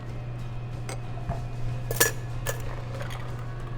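Gin and tonic being shaken with ice in a cocktail shaker, a few quick clinking rattles of ice against metal and glass over a steady low hum, fairly faint and close.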